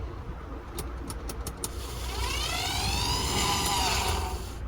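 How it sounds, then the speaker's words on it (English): A Mercedes-Benz W202 blower fan motor bench-tested loose outside the car: a few clicks, then a rising electric whine that spins up and holds steady, faint under background hum. "Our motor is now functioning fine and can be refitted back to the vehicle."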